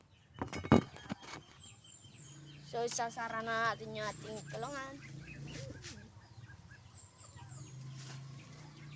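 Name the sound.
pigeons in their coop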